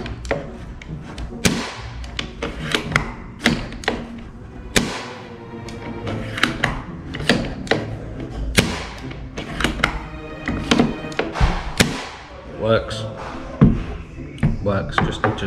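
Bolt of an ASG Steyr Scout airsoft sniper rifle being worked, with repeated sharp clacks and thunks in irregular bursts, close by, while someone talks throughout.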